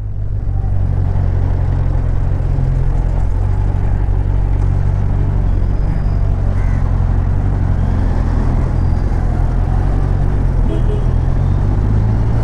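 A vehicle in sports mode moves through city traffic with a continuous heavy engine and road rumble, steady and close, with no talking.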